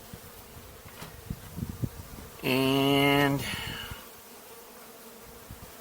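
A small fall swarm of honeybees being moved between hive boxes gives a brief loud buzz lasting about a second amid soft handling noises, with a voice speaking briefly.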